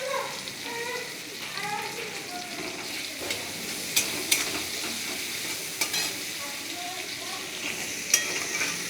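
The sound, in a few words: onions frying with salt in a pan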